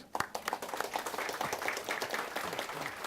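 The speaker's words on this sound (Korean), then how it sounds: "박수." Audience applause at a career concert lecture on information security, a burst of clapping from a moderate crowd, steady and dense, fading slightly toward the end.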